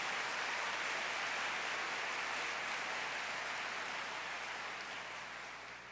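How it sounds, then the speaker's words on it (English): A large audience at an awards night in a big auditorium applauds continuously, a broad, even wash of many hands that holds steady and then slowly tapers off toward the end. "Give yourselves a round of applause for being here on this very special and monumental night."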